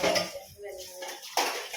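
Dishes, pots and utensils being hand-washed in a home kitchen, with close clinks and scraping clatter in a few bursts, a quiet gap in the middle and a sharp rattle near the end.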